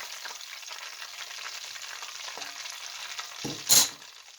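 Pieces of coated chicken sizzle and crackle steadily in hot frying oil, with a brief sharp clatter near the end as something is stirred or knocked in the pan.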